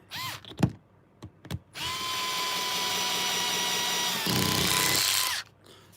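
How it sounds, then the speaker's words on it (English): A power driver runs screws into 3D printed parts for an RC crawler gearbox, giving a few short bursts before one long steady whine that shifts pitch near the end, then stops, close and loud with no talking. "this really is the best thing I ever bought for screwing together 3D printed parts"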